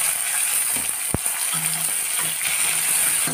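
Steady sizzle of browned onions frying in a pan as two medium chopped tomatoes go in, with a brief clink near the start and the hiss carrying on loud and even throughout.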